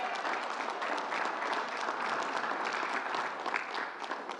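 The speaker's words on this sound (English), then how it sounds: "Let's give a big round of applause." Sustained applause from a crowd, dense steady clapping that continues throughout without pause.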